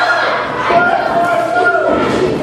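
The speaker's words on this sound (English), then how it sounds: "Fans are cheering one more time." Wrestling fans cheering in an arena during a James Ellsworth match, a steady loud crowd roar with shouting voices mixed in.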